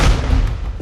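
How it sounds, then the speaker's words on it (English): High voltage power lines arc to earth through heavy smoke and flames, producing a plasma burst: a single loud, booming explosion with a deep, rumbling body that fills the whole moment. "Severe flames and dense smoke can also cause high voltage power lines to arc to earth, resulting in a plasma burst and a loud explosion."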